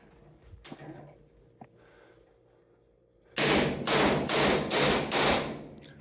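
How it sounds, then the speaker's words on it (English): A hammer pounds on a rivet to drive it out: after a quiet stretch of faint knocks, five heavy, evenly spaced metallic blows ring out loudly up close. "she started pounding on it. There's a rivet that we need to get out of there."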